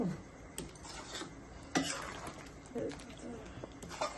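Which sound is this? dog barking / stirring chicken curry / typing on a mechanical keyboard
stirring chicken curry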